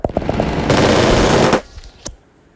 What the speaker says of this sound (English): Huge balloon explosion.